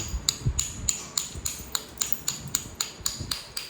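Crisp, evenly spaced clicking taps ring close by as the edge of a heated Alabama Coastal Plains chert point is bevelled by flint knapping, about a dozen strikes in steady rhythm.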